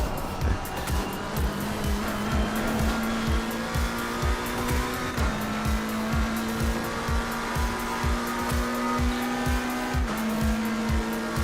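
A McLaren 720S GT race car in Assetto Corsa Competizione laps Spa on cold tyres, its engine droning loud and steady with a rhythmic pulse, rising in pitch and dropping back at a couple of upshifts, with no talk.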